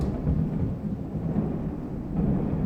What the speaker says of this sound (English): That was roaring thunder.